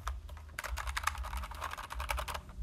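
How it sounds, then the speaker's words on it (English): Rapid keyboard typing clicks in quick irregular bursts, close and clear over a low background hum, with no voices. "how you can add a keyboard sound like this"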